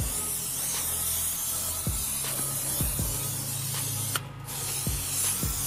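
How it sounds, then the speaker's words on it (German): Tire shine spray is sprayed onto a car tyre, giving a steady, close aerosol hiss that runs through the whole stretch with faint clicks and thumps underneath. "ich sprühe mal kurz den Reifen hier ein."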